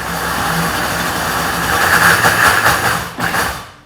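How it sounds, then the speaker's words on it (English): A loud, steady whirring roar of a blender running continuously while blending pumpkin hummus, with a brief dip near the end before it resumes. "pull the blender over, and blend it up."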